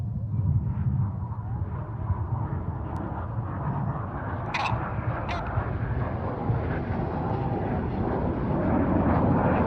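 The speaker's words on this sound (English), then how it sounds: "Let's listen in to Red 6 for the second double roll." Red 6, a display jet, flies a double roll at an airshow, giving a broad, steady distant engine roar with wind buffeting over the whole stretch, and brief faint higher tones near the middle.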